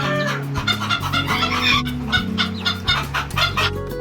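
Many chickens cluck and squawk steadily and close by on a fancy chicken farm with domestic and foreign breeds. A low steady hum runs underneath.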